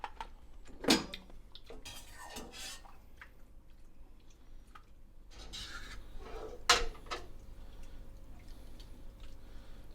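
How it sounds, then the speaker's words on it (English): Tender cooked calamari and octopus lifted out of a pot with utensils, giving quiet scattered clinks, drips and scrapes, with two sharper metallic knocks standing out over faint kitchen background. "So we'll get these out of the pot."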